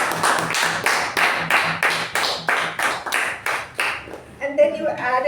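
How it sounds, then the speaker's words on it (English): A small Toastmasters club meeting audience claps in steady, distinct rhythmic beats for several seconds, fairly close and moderately loud, before the clapping fades and a voice begins speaking. "a big round of applause to acting president"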